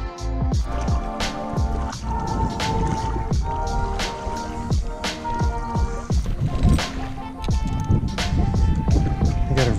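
Feet splash and slosh through shallow water at Fort De Soto Park in the evening as someone wades toward a bridge. The splashes come in a steady, close stride rhythm throughout.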